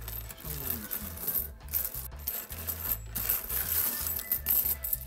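Old Korean coins, including 10- and 50-won pieces from 1960 to 1981, clink and jingle steadily as they are handled and shuffled. The metallic rattling continues throughout at close range with no talk.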